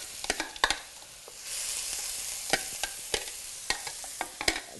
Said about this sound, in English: I'm going to stir that and fry it for a little